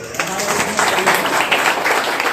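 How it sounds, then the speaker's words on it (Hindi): An audience applauds at a live event in India, a dense, loud burst of many hands clapping together that continues steadily throughout with a voice mixed into the crowd noise. "एक बार जोरदार ताली।"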